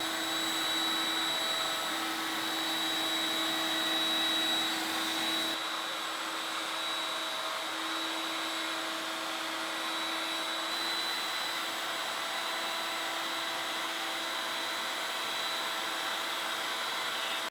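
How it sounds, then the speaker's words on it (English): A router fitted with a quarter-inch round-over bit shapes the top edges of walnut table legs, giving a steady, high-pitched motor whine that holds for a long stretch, with a small drop in tone partway through. "I'm going to round over these edges that make up the perimeter of the top of each leg using a 1/4 inch radius round over bit"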